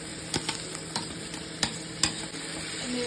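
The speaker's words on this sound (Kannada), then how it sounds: "ಆವಾಗ ಸೊಪ್ಪು ಬಸಿಯಕ್ಕೆ ಇಟ್ಟಿದ್ವಲ್ಲ ಅದನ್ನ ಇವಾಗ ಇದಕ್ಕೆ ಹಾಕೊಂತ ಇದ್ದೀನಿ" Drained dill greens tipped into frying onions in a pan, a continuous soft sizzle punctuated by several sharp spatula scrapes and taps at an uneven rhythm, close and without talk.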